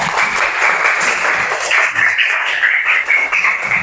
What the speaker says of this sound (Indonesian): Kasih aplaus dulu untuk kelompok pertama.